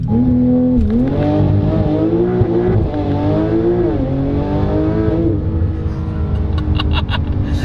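A Porsche 992 Turbo S launches hard and spins all four wheels, its engine roaring loud and close as the pitch climbs through gear changes. The roar fades into rumbling road and tire noise toward the end.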